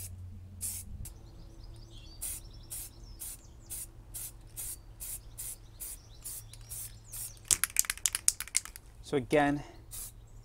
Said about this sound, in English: nice, even, slow coats from a distance